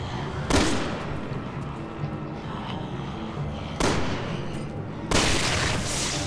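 Gunfire in Resident Evil 6 during the Leon and Helena campaign: a few sharp shots standing out at irregular intervals over a busy, rumbling game soundscape, fairly close and loud, with no speech.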